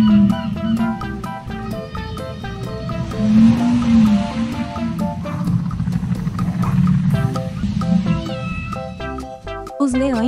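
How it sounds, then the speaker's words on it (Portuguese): Drawn-out, wavering tonal calls rise and fall one after another over a low watery rumble, moaning and squealing like whale song. "esses mamíferos gigantes produzem sons complexos para se comunicar com outras baleias a quilômetros de distância"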